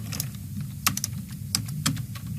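Keys tapped on a computer keyboard while a search term is typed, a quick run of close, crisp clicks with brief pauses, heard alone over a low steady hum.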